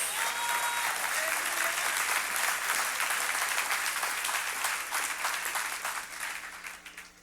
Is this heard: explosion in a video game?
no